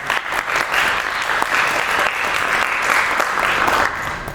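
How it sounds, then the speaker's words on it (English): Audience applause for a guest scholar at an African American History Month talk on Brazil, a dense, steady clapping that stays loud throughout and tapers slightly at the very end. "A round of applause"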